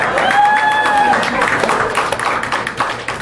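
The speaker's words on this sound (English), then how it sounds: "Hold your applause for the government." Comedy club audience applauding and clapping throughout, a dense steady wash of hands with a voice briefly calling out over it near the start.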